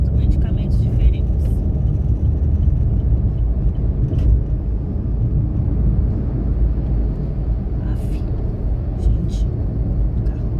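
A car passes on a street, a low steady rumble running the whole time beneath a person talking nearby.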